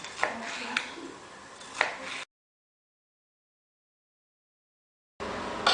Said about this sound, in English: cut these thin strips in half so that we have pieces about this big